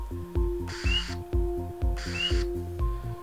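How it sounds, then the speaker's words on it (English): A Swainson's thrush gives two brief rising whistled calls during nocturnal migration, well apart, over a steady, rhythmic mechanical pulsing background. "It's the first of the season for me for this bird, the Swainson's thrush. This is what they sound like."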